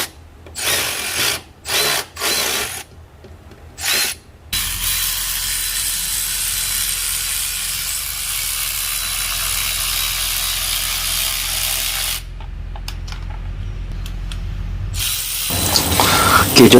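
A Milwaukee M12 FIR38LR cordless ratchet breaks loose a bolt and nut: a few short loud bursts, then a long, steady, loud whirring run that cuts off abruptly, followed by another brief burst.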